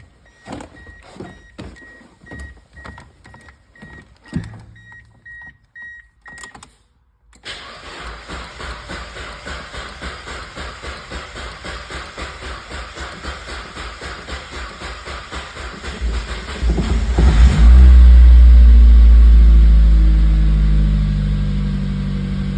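A Mazda Miata (NB) with a new ignition gets cranked with a series of rhythmic starter clicks and churns, then a pause before the engine catches and settles into a steady idle, swelling louder near the end.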